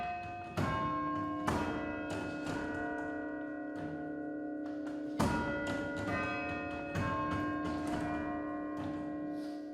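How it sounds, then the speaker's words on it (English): Chapel chimes of the Bacheller Memorial Chimes at Gunnison Chapel, St. Lawrence University, ring out in a slow melody of sustained bell tones, each strike clear and resonant with long overlapping decays. "the Bacheller Memorial Chimes can be heard, coming from Gunnison Chapel at St. Lawrence University"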